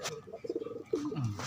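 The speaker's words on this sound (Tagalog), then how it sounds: "Ayan kalapatids." Pigeons in a freshly painted loft coo softly at close range, giving a few low, throaty burbling calls against quiet background noise.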